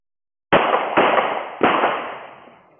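Three sharp, loud gunshots during an armed robbery, spaced about half a second apart, each followed by a ringing echo decay.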